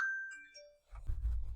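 A single short phone notification ding, a bright clear tone with a ringing tail, sounds alone and quietly, followed by soft low rumbling handling noise.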